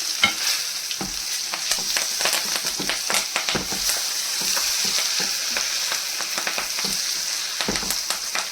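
Oil tempering spices sizzles and crackles steadily in a pan for a mango chutney made with jaggery, with sharp pops scattered through a continuous hiss and no talking.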